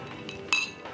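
Glasses clink together in a toast, a single bright close chime with a short ringing tail and faint softer taps before it.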